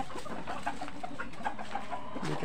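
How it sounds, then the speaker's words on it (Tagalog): Small bantam chickens cluck in short, scattered bursts at close range, with soft noise from the surrounding farmyard underneath. "Dito tayo sa maliit na manok, yung bantam"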